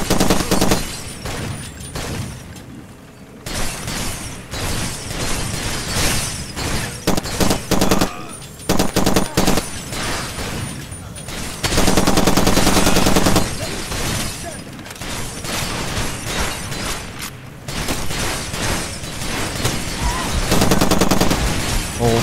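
Sustained automatic gunfire from the video game Far Cry 2 rattles loudly and almost continuously, with heavy bursts, booms and brief lulls between volleys.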